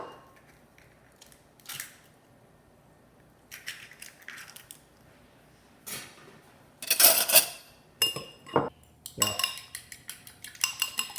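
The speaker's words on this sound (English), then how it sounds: "Just beat the eggs really, really well." Two eggs are beaten in a bowl with a utensil. There are brief scattered taps at first, then bursts of rapid clattering whisking grow louder and more continuous, with sharp clinks against the bowl, close and alone.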